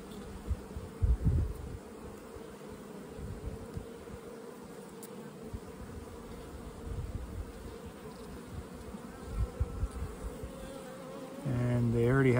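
Honey bees buzz continuously in a dense, close swarm as they take up sugar syrup, with occasional bumps and a louder hum near the end.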